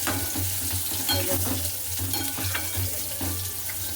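Titor chorchori, a Bengali mixed-vegetable dish, fries in oil in a pan with a steady close sizzle, accompanied by repeated soft stirring scrapes and clinks over a low hum.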